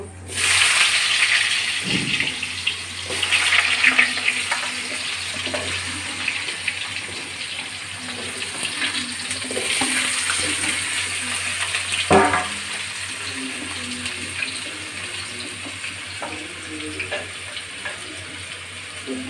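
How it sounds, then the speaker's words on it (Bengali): Cut potatoes frying in a pan of hot oil seasoned with cumin seeds and bay leaves, a steady close sizzle with occasional stirring clatter throughout. "এখন আলুগুলো ভালো করে ভেজে নেব"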